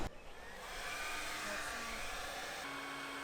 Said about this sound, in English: I'm going to heat shrink using a hair dryer